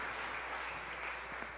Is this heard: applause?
yes